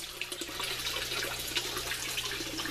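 Water pouring steadily into fish tanks from a sump tank in an aquaponic greenhouse, a continuous broadband rush and splash with no pauses, alone at close range.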